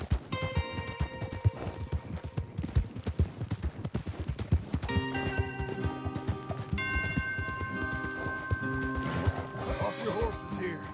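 Horses gallop in Red Dead Redemption 2, with rapid clip-clop hoofbeats and whinnies in a dense, busy mix, plus talk over the action.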